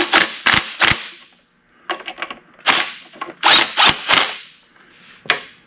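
Socket ratchet wrench snugging bolts while reassembling a car's clutch pressure plate, heard as close, sharp clicking bursts in short irregular runs separated by brief pauses.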